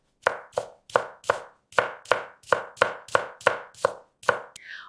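Peeled yam being cut into even chunks on a board, with about a dozen crisp, evenly spaced knife chops, loud and close, with no talking.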